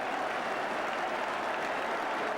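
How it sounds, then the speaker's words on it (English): Highbury stadium football crowd applauding after a goal, a short burst of even, distant clapping that holds steady without a voice over it. "Great applause all around Highbury."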